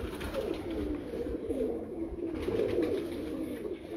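A female Teddy pigeon coos in low, throaty rolling phrases, continuous and close for several seconds.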